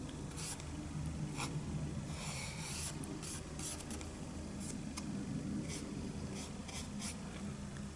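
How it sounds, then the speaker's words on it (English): A brush sweeps excess embossing powder off a stamped card, a soft, continuous rasping rub with short repeated strokes, quiet and close. "Now just brush off the excess."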